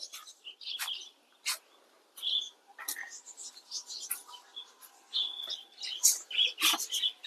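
Birds call in the Kulik forest of the Raiganj Wildlife Sanctuary, with bright, short chirps and tweets coming in scattered bursts that grow busier toward the end over a quiet background.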